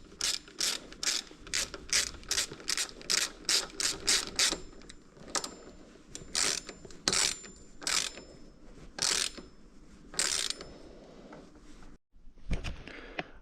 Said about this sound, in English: But for some reason right now we have this nut that we get to tighten on there.